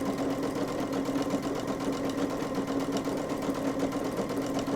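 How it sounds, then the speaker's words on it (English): A sewing machine runs steadily while stitching a quarter-inch seam on a two-tone tote, giving a continuous, even mechanical whir at medium speed with no talking. "raise the presser foot, raise the needle, and get myself lined back up for that second line of 1/4 inch stitching"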